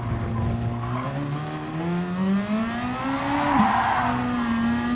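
A race car in Gran Turismo Sport with badly worn tires squeals and skids out of the chicane at Circuit Triangle, a sliding tire whine over the steady engine drone that rises and wavers, close and alone.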